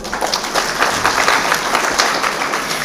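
A warm round of audience applause for distinguished guests at an international research conference at the Open University of Sri Lanka, dense steady clapping from a large crowd throughout.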